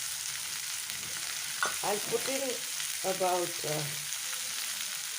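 Cluster beans frying in a pan for a quick Indian stir fry give a steady, soft sizzle throughout, while a person talks over it in short phrases.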